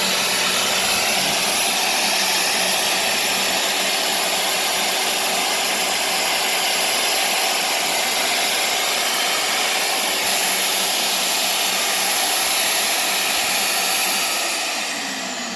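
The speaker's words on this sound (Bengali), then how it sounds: "পানি এখন এই মেশিনটা থেকে এই ছাদ বা এই ওয়ালটা কাটা হবে।" Drill machine cutting through a wall or roof with water running, a loud steady high-pitched whine with a constant hum that holds level throughout and fades slightly at the end.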